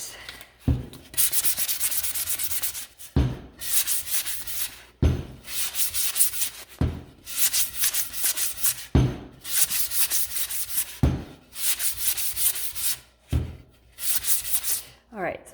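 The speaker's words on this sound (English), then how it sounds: "I'm just going to quickly sand this." Hand sanding of a wooden round Christmas tree sign, in repeated strokes of rough rubbing with short pauses between them, close and moderately loud.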